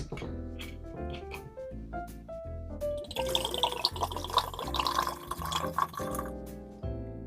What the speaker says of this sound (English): I like to do a hard pour to kind of get some oxygen incorporated in there.